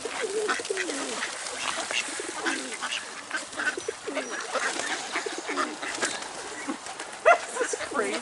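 Pigeons coo and flutter at a bird-feeding spot in Sechelt marsh, British Columbia, with soft, scattered calls and wing sounds under close conversation.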